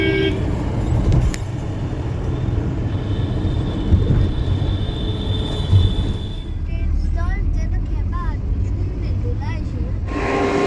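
A Vande Bharat train stands at Howrah station amid loud, continuous platform rumble and bustle, with a sustained horn-like tone in the middle and a quieter stretch of sharp chirps near the end.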